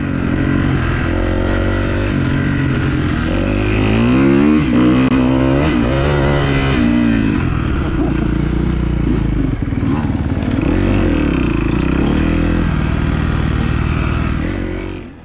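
An enduro dirt bike runs hard through a well-bedded forest trail section, its engine revving loud and close with rising and falling pitch as it shifts up through the gears on the opens, a steady roar throughout.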